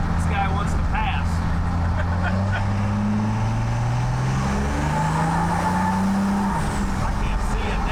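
A passing car overtakes a '75 C10 truck with a swapped 6.7 Cummins diesel on the road, a loud steady engine drone with rising and falling tones as the other vehicle goes by, with people talking.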